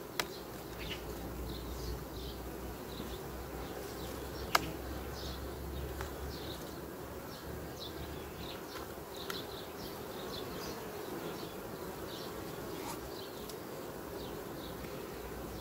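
Honeybees in a hive buzz around a caged queen, with only a few bees under the cage, making a steady, soft, close drone with occasional faint clicks and no talking.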